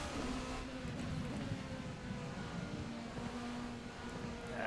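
LMP1 race car engine at Mugello in Assetto Corsa during a night race, a steady low humming drone with faint higher whine, held at fairly even pitch, quiet and continuous with no talk.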